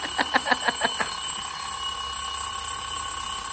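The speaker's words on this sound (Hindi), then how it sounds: "देखो बजता कैसा है अलार्म सेट" A set alarm clock rings with about six quick repeated bell-like bursts in the first second, then a steady electronic tone lingers over background hiss, fairly loud and close with no talking.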